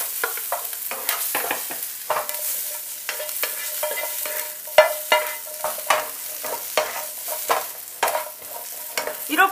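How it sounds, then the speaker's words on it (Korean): Bell peppers, green and red, with other vegetables stir-fried in a pan before going into a roux for chicken à la king: steady close sizzling with repeated scraping stir strokes throughout, no talking. "이렇게 야채를 먼저 볶고 루 속에 넣어야 물기도 좀 없어지고요"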